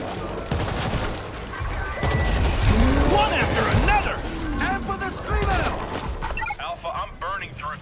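Bursts of gunfire in World War Z, a co-op zombie shooter, crackling and rattling in dense volleys through a loud, chaotic fight, with voices calling out over the shooting.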